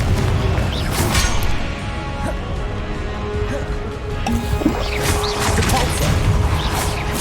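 A Confringo blasting spell erupts in Hogwarts Legacy, a loud, dense burst of crashing impact noise that swells, dips briefly, then surges again amid continuous game sound.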